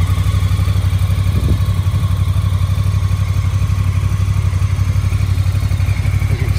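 A Honda Africa Twin Adventure Sports anniversary-edition motorcycle idles steadily up close, its loud, even engine throb holding for several seconds with a faint rattle and no voices.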